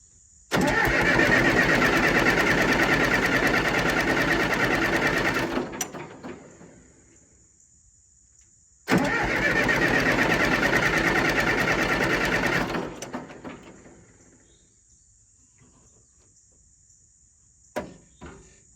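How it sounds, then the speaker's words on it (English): A John Deere 450 that starts and then shuts off is cranked over twice, each a loud, steady starter-motor churn lasting about five seconds and then cutting out, with quiet gaps and a faint click afterward. "Let's crank it over and see what happens here."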